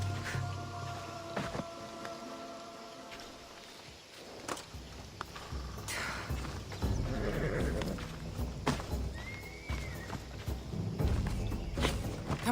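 In Assassin's Creed Odyssey, a horse whinnies loudly, then its hooves clip-clop into a steady galloping rhythm. The hoofbeats sound close and run continuously under faint background game ambience.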